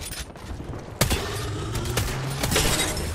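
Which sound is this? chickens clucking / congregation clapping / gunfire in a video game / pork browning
gunfire in a video game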